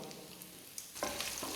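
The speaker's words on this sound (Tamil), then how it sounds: "பச்சை மிளகாவும் சேர்த்து நல்லா வதக்கிடுங்கம்மா." Green chilies sautéing in hot oil in a pan, a soft steady sizzle with a few sharper stirring scrapes and crackles that swell near the end, close and fairly quiet, no voices.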